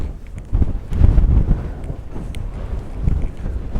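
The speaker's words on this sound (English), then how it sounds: "God, it's so windy." Strong gusts buffet an exposed spot on the Cheviot hills, the wind hitting in heavy low thumps and roaring surges that rise and fall unevenly with no voices.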